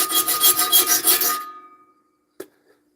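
A file sharpening a saw blade outdoors, rapid rhythmic rasping strokes at close range for about a second and a half, then silence broken by a single short metallic tap.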